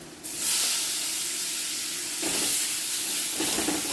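Shrimp with a small piece of butter sizzle in a pot, making a steady bright hiss with slight surges as the pieces settle. The sound is close and continuous, and no one talks.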